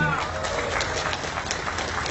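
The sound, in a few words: audience applause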